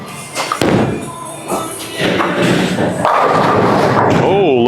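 A bowling ball rolls down the lane and crashes into string pins, a thudding impact followed by clattering pins, with a person talking over it.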